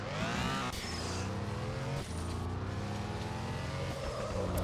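Race car engine driving a track in the video game Star Drift Evolution, a steady loud revving drone with rising and falling pitch sweeps as gears shift, continuous and close throughout.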